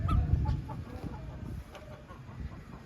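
A chicken in a farmhouse courtyard clucks in short, low, repeated bursts, close and moderately loud over a steady outdoor background, with no talking.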